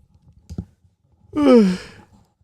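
A man gives a long, audible yawn that drops in pitch as it trails off into a breathy sigh. A couple of soft knocks come just before it, in an otherwise quiet room.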